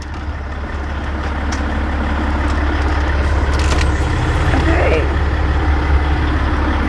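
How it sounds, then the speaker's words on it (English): A farm semi truck's engine idles outside with a steady low diesel rumble that grows slightly louder over several seconds, and faint knocks and rustles sit on top of it. "Truck is outside running."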